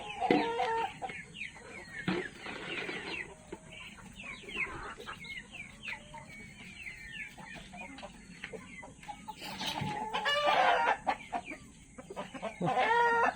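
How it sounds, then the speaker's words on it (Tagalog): Several chickens cluck and chatter nearby in overlapping bursts, with louder squawks toward the end over a quiet outdoor background. "Mga manok rito oh."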